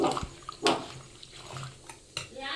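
Water is poured in a few short splashing bursts into a metal pot for cooking mixed vegetable sambar, close up, with quiet pauses between pours and no talking.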